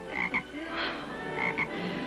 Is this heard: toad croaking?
yes